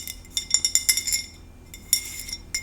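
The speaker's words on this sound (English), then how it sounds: "So, glass with ice." Ice cubes clink and rattle against a glass in a home kitchen, a quick run of bright chinks followed by a pause and a few more, close and fairly loud with no talking.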